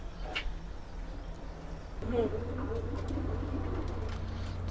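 Pigeons in a new cage, including a hen bought at a market, giving repeated low throaty coos that grow steadier in the second half, over a constant low hum and faint background noise.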